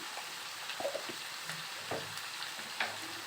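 Ivy gourd frying over high flame with fresh curry leaves and turmeric, a soft, fairly quiet sizzle with occasional stirring clicks and scrapes, no talking.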